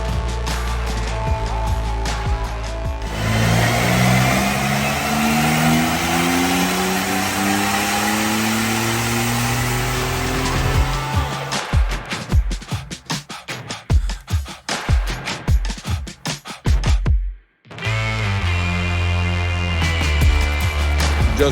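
A Porsche 992 Carrera S strapped down on a dynamometer revs hard through a long rising pull, then drops into rapid throttle blips and bursts, a brief cutoff, and a loud return to revving, all close and without talk.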